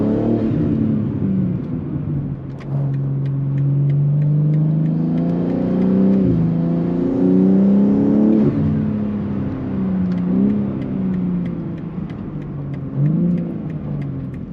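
A modified 500hp BMW G80 M3 with an MST intake pulls hard through several gear changes, its intake whoosh and exhaust note rising and dropping, steady and close with no voices.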